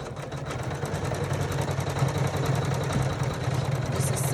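An embroidery sewing machine stitches a quilting motif in the hoop on the top layer of a zipper pouch, giving a steady, close mechanical whir with a fast, even ticking rhythm throughout.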